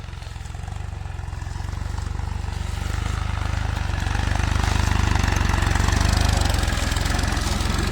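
A mini tractor's engine drones steadily while ploughing a small field, a continuous close mechanical rumble that swells slightly louder partway through, with no talking.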